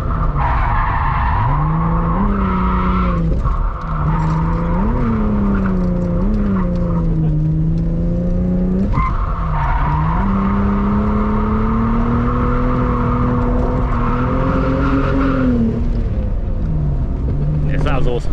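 A 200bhp MK4 Toyota Supra drifting on a track, its engine revving up and down in long sweeps while tires squeal and skid almost continuously, loud and close throughout.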